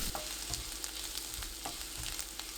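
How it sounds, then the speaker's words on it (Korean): Sliced pickled cucumbers with garlic and a Cheongyang chili stir-fry over medium heat, a dense, close, continuous sizzle with soft scraping stir strokes. "오이지 3개, 청양고추 1개 넣고 2분 볶습니다. 중불로 계속 볶아주세요."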